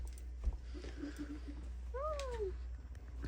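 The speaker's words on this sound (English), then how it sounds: "Oh, the kitty!" A calico cat gives one clear, rising-then-falling meow near the close, heard against a low steady hum and faint background rustle.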